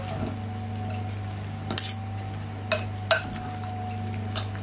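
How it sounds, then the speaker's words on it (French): A spoon stirs cabbage and vegetables browning in a pan over a low hum, with a few distinct scrapes and clinks of utensil against the pan spaced out over a few seconds. "Je vais mélanger le chou et les légumes."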